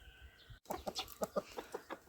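Hens and roosters cluck in a quick irregular series of short calls, close by and fairly quiet, with no talking.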